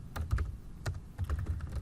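Someone types code on a computer keyboard, a quick irregular run of soft key clicks and taps heard close and fairly quietly, with no voice over them.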